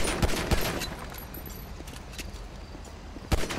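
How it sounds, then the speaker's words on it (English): Gunfire in the GTA V police mod LSPDFR during a traffic stop: several sharp, distant shots, two close together at the start and one more near the end, over a steady background of game noise. "Shots fired, is that?"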